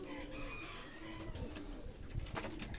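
Pigeons coo softly in a loft in İzmit, faint low calls repeating over a quiet background with some shuffling and light knocks.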